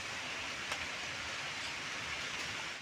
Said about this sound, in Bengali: একদম অলরেডি বৃষ্টি পড়ছে